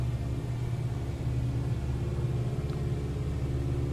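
In Microsoft Flight Simulator 2020, an airplane engine drones in a steady low rumble as the aircraft speeds up for takeoff, a constant, even roar with no voices.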